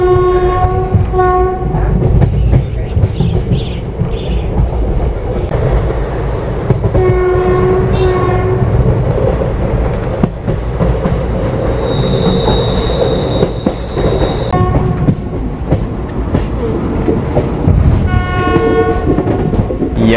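A train pulling into KSR Bengaluru station in light rain, loud and close, with rumbling wheels and clattering rail joints, squealing wheels, and long horn blasts sounding over the noise.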